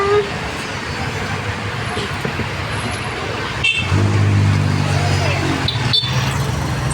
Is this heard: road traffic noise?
yes